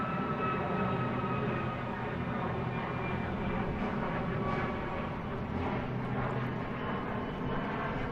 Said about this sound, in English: I just saw Japan Airlines flying past these guys.